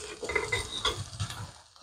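Whole cumin, black pepper, cloves and cinnamon hitting hot oil for mutton dum biryani: a soft crackling sizzle with light stirring scrapes, ending in one sharp clank of the utensil, close by.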